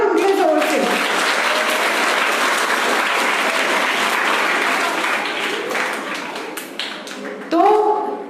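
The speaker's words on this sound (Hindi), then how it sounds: "हाँ, तालियां बजा दो और उनके जोर से।" Children clap steadily together at a school gathering for the Harela festival, a dense burst of applause that thins out before a voice speaks near the end.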